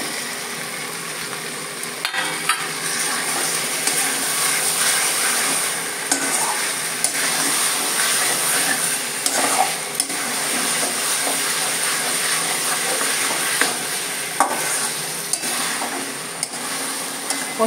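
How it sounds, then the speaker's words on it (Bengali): Duck eggs and potatoes frying with spices in a pan for kosha, a continuous loud sizzle broken by the frequent scrape and clack of a spatula stirring, close by, with no talking. "ডিম আর আলু দিয়ে মশলার সাথে কষানো আমার হয়ে গেছে"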